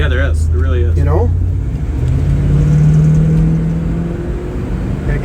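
A 1967 Camaro SS convertible pulls away from a stop in drive. Its engine drones close up and rises steadily in pitch as it accelerates, and a voice talks briefly at the start.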